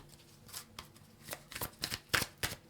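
Tarot cards being shuffled by hand in a series of quick riffling bursts that grow denser and louder toward the end, close up, with no talk over them.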